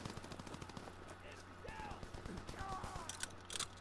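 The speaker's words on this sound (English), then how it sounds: "Combat shotgun, as you just saw, killed me instantly." Combat shotgun blasts and other gunfire in the Call of Duty WW2 game ring out over a steady low hum, with several bursts and scattered shots mixed with game sounds throughout.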